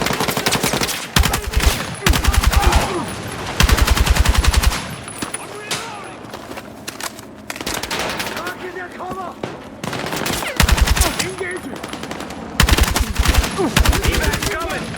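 Automatic weapons fire in bursts during a Battlefield 6 campaign firefight, loud and close, with rapid rattling volleys separated by short lulls and occasional shouted voices in between.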